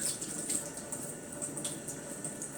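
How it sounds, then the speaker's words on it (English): A tap left running a little in a sink, giving a steady, soft hiss of flowing water with faint splashes, continuous and unbroken, with no talking. "I run the water a little bit when I do this"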